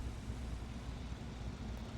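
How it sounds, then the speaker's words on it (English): A tank engine in the War Thunder video game rumbles as a steady, low, fairly faint drone, unbroken for the full two seconds with no voices. "I do hear an engine."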